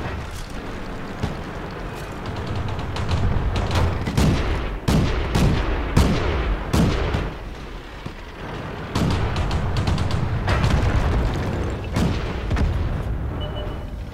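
Repeated heavy tank cannon blasts and bursts of gunfire in World of Tanks echo through a noisy battle, some shots booming close, others scattered farther off, for over ten seconds.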